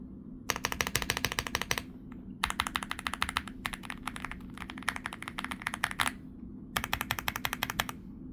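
Bursts of rapid mechanical key clatter from an EPOMAKER Hi75 mechanical keyboard being typed on, close and crisp, in several runs separated by short pauses, with a low steady hum underneath.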